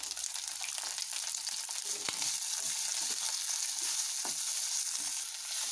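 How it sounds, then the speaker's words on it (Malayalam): Chopped green chillies, garlic and ginger sauté in hot oil for a sweet tamarind-ginger relish, a steady near sizzle with faint stirring scrapes and no voices. "ഈ മുളകിൻ്റെ കൂടെ ഇതൊക്കെ ഒന്ന് വഴറ്റിയെടുക്കാം"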